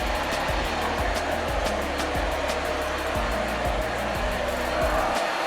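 A GeeMo lightweight vacuum cleaner sucking up pine needles on a hardwood floor, its motor a loud, steady whirring drone with small shifts in pitch as it moves, and no talk.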